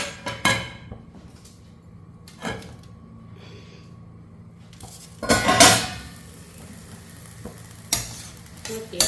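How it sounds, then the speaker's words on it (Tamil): Cooked rice in a metal pot is drained in a home kitchen, with pouring water and several loud clanks and scrapes of the pot and lid against surfaces, in bursts over a steady background hiss. "சாதம் நல்லா வடிக்க போகிறேன் சாதத்தை வடிச்சுக்கோ"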